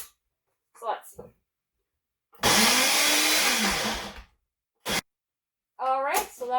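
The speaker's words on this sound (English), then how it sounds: "Now, once I started using a blender, it's literally a few seconds." A kitchen blender whirs loudly for about two seconds as it mashes boiled potatoes, an abrupt close burst with brief speech before and after it.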